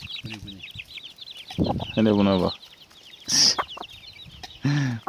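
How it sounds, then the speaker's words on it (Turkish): Farmyard chickens cluck and squawk in short bursts close by, including one sharp high cry, with someone talking in between. "Koskocaman tavuk olmuşlar artık."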